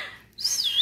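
A small bird gives a bright, clear chirp, a high whistled tweet that rises sharply and holds briefly, heard close and alone after a moment of near silence.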